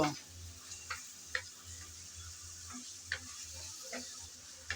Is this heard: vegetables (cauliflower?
yes